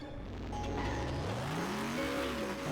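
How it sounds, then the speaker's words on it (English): A giant monster truck called the Obliteratatron in a video game rumbles with a deep, continuous engine drone whose pitch climbs and wavers as it revs, close and steady with no talk. "Oh yeah, listen to that damn engine."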